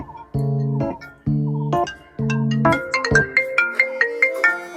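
A phone ringtone plays alone and loud as a bright electronic melody, with repeated tonal phrases that give way to a quicker run of rising notes, heard within a Sri Lankan Tamil comedy sketch.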